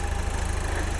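Engine of a 2008 Saturn Sky Redline idling, longitudinally mounted, heard with the forward-opening hood up: a close, even low rumble with a steady pulsing beat, no talking.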